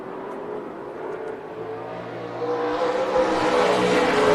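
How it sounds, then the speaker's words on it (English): Race cars run side by side around the Tucson Speedway oval at night, a loud engine roar that builds and rises in pitch as they approach and accelerate down the back straightaway. "They'll stay side by side down the back straightaway, though, as Dylan Jones hanging right in there"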